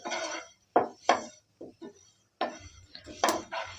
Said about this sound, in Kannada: ಉರಿ ಸಣ್ಣ ಇಟ್ಕೊಂಡು ಎಳ್ಳು ಹುರ್ಕೊಳ್ಳಿ.